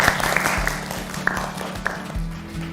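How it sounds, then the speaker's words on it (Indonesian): An audience claps together after an Arabic-language presentation about tourist spots in Bekasi, a steady dense patter of hands with a few sharper claps standing out, fairly close and continuous. "tepuk tangan untuk kita semuanya"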